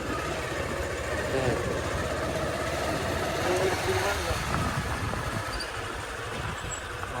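A motorbike engine idles with a low, steady rumble at close range, holding even throughout while people talk over it.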